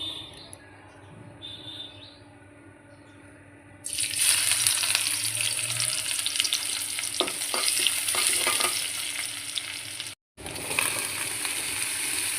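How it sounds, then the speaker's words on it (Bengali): Chopped onion hits hot oil in a wok. A quiet stretch gives way to a sudden, loud, dense sizzle that continues with light stirring and clinks, broken by one brief gap near the end. "কড়াইতে তেল গরম হয়ে গেছে, এখন পেঁয়াজ কুচি দিয়ে দেবো।"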